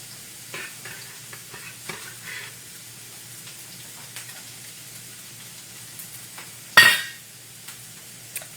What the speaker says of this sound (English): I'm going to add in my onion and get that started to saute